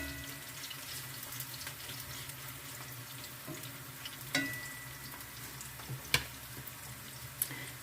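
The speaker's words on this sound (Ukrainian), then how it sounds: "Додаємо сюди цибулю. І підсмажуємо її до золотистого гарного кольору." Chopped onion frying in heated oil in a pan makes a steady, faint sizzling hiss that carries through without a break, with a few soft clicks near the end.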